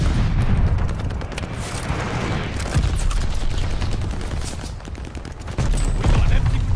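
Gunfire and a glide bomb explosion in the video game Call of Duty Vanguard, with loud, continuous rattling shots and heavy booming bursts throughout, swelling again at the end.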